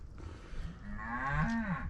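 A single cow moos close by, a long rising bellow that swells in volume over a quiet outdoor background.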